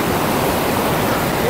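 Cold river water rushes over stones in northern Pakistan near Naran, a loud, dense, unbroken roar close by with no break.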